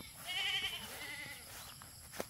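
Goats bleat on a farm lot in Ubay, Bohol, with one clear, wavering bleat standing out early over a soft outdoor background, then fading to quieter ambience and a brief knock near the end.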